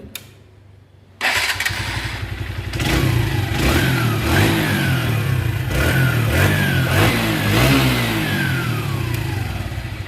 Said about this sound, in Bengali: তো এখন আপনারা ইঞ্জিনের সাউন্ড শুনবেন।